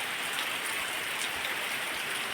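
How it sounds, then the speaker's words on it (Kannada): Steady morning monsoon rain pours down in a dense, even patter on surfaces nearby, a close and constant wash of sound with no voices. "ಬೆಳಿಗ್ಗೆ ಮಳೆ ಬರ್ತಾ ಉಂಟು."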